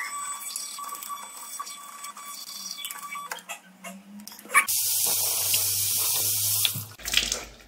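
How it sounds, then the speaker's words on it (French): A small wool fabric spray made in France sprays in a loud, steady hiss of about two seconds, alone, after some quieter handling noise. "petit spray à laine made in France"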